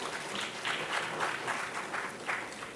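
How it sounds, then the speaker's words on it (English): An audience at a national finance conclave applauds the competition winners with a short burst of scattered, moderately faint clapping that comes in uneven pulses. "Can we have a huge round of applause for them?"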